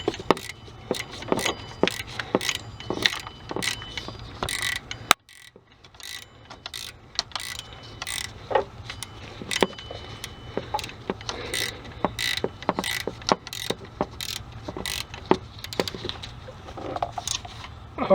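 A ratchet wrench clicks in quick repeated bursts as it snugs an idler pulley bolt on a Ford Explorer during serpentine belt work, close and crisp, pausing briefly before the clicking resumes.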